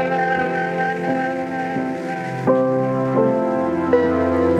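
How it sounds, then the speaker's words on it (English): A warm, buzzy detuned saw-wave synth pad with slight saturation sustains chords alongside piano, the harmony shifting every second or so in a slow, continuous progression without voices. "we got a little detuned saw wave with a little bit of saturation"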